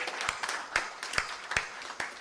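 A small audience clapping in a room, scattered sharp hand claps forming light, uneven applause that stays moderately quiet throughout.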